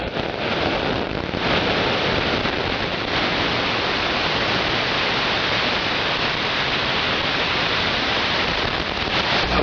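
Steady rain pours outdoors, a dense, even hiss of countless drops striking surfaces, loud and unbroken from start to finish with no voices over it.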